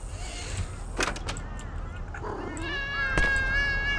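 Several cats meow in a row, with a long drawn-out meow near the end, mixed with thumps and background noise at moderate volume.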